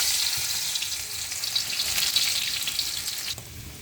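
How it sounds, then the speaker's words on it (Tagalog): Ginger hits hot cooking oil in a pan and sizzles loudly and steadily, a bright continuous frying hiss close up, with a slight shift near the end as the ingredients are stirred. "At ilagay na natin ang ating luya."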